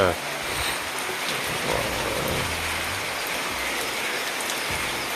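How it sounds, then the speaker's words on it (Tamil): Dense, steady hiss of heavy rain pouring down on a village home in Tamil Nadu, with a faint voice under the downpour. "கீழே பாருங்கள் எந்த அளவுக்கு மழை பெய்யுதுங்கிறது"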